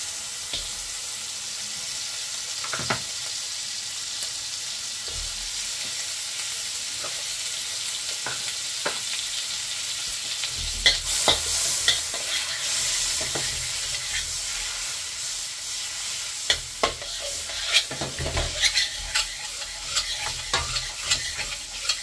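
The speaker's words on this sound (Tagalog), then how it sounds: "Yan ang ating pagigisahan ng ating bawang sibuyas at saka ng ating karne." Butter sizzles quietly in a pan before garlic, onion and beef are sautéed for beef caldereta, a low steady hiss broken by clinks and scrapes of a spatula, and the sizzle grows louder and busier midway.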